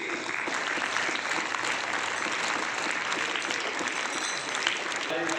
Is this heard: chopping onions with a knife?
no